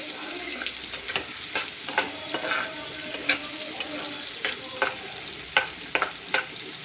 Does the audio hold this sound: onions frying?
yes